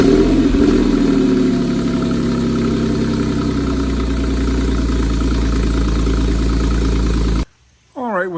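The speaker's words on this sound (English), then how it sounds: "Cold start on a Porsche 911." Porsche 911 engine idling after a cold start, a loud steady mechanical rumble close by, slightly higher at first and then settling, before cutting off abruptly near the end.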